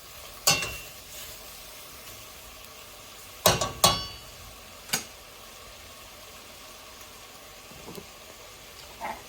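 Diced celery and red onion sizzle softly in a pot for chili, a steady low hiss broken by a few sharp utensil clinks and stirring scrapes near the start and middle, with no talking.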